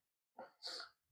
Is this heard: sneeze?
yes